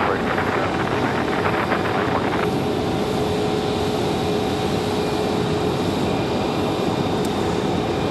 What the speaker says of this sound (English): American, that A321, American 1569, off to LAX.